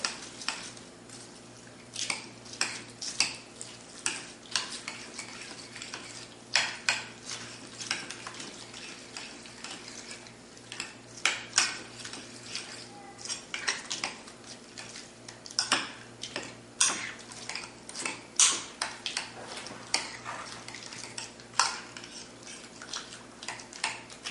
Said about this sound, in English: So now we're going to mix all this up.